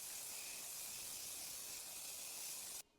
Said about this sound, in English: I'm going in with this disinfectant spray just to kind of kill any bacteria.